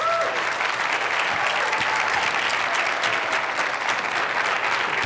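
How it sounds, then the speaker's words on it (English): An audience at a neuroscience workshop gives Deepak Chopra sustained, even applause, a dense wash of clapping at steady loudness throughout, with no speech on top. "please give a great round of applause to Deepak Chopra"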